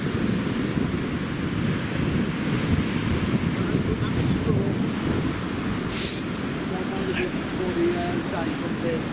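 Sea waves wash steadily onto the Scottish coast at Seacliff Harbour, a continuous broad roar of surf with gusting wind noise buffeting the microphone throughout.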